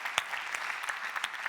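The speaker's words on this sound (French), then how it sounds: "On peut l'applaudir très fort." Applause for Peggy Ravin at an e-health talent event, a moderate steady patter of clapping from an audience with a few sharper individual claps standing out.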